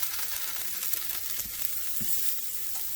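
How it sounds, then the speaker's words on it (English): Potatoes sizzle steadily in a hot cast iron skillet, a continuous close hiss of frying with a few soft thumps as pieces are placed in. "you might be able to hear a little bit of sizzle as they go in"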